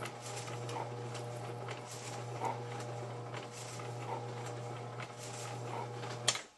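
A machine slicing mushrooms paper thin runs with a steady low hum and soft repeated chopping patter, ending in a sharp clunk as it stops.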